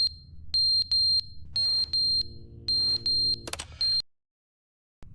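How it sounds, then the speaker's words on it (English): Repeated high-pitched beeps of a smoke detector in the video game The Stanley Parable, sounding in short regular bursts with a low hum beneath, then cutting to near silence. "Is that the smoke detector going off?"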